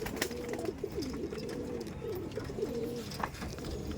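Giribaz pigeons in a cage give repeated low rolling coos, close and steady, over restless background rustling with a few sharp flutters and clicks.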